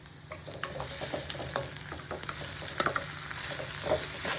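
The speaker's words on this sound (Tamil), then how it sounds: "உருளைக்கிழங்கு வெங்காய மசாலா எல்லாம் ஒன்றா மிக்ஸ் ஆகணும் அது வரைக்கும் நல்லா கலவி விடலாம்" A spatula scrapes and stirs potatoes through onion masala sizzling steadily in a pan, with scattered clinks and scrapes over a constant frying hiss.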